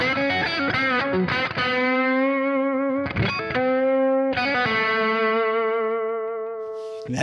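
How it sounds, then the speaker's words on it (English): A Stratocaster on its bridge pickup through a hard-driven amp and Marshall cabinet plays sustained overdriven chords and bent notes, bright and gritty with a little echo, several held phrases ringing out loud and close with no talking. "if you're ever wondered what a Strat sounds like in the bridge position pickup through an amp that's pushing pretty hard"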